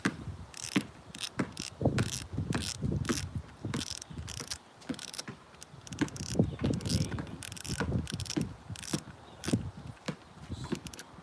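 Top of a spinning fishing reel being unscrewed during cleaning, a close run of small dry clicks, ticks and grinding mechanical rasps in uneven bursts, with brief pauses between turns.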